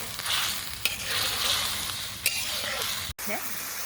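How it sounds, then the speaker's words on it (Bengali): Spices such as ground turmeric, chili and coriander with paste and salt being stirred and fried in a pan, a steady sizzle with scraping spoon strokes throughout, close and moderately loud, with a couple of sharp clinks. "মশলা আমার দেওয়া হয়ে গেল, এখন আমি মশলাটাকে কষিয়ে নেব"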